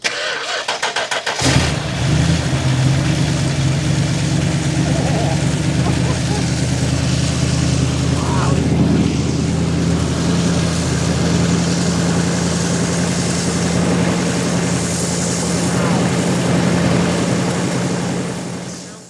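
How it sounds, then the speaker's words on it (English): A Chrysler Imperial barn find's engine cranks, catches and settles into a loud, steady idle close by, running continuously until it cuts off near the end. "As you can see, we got the Imperial running."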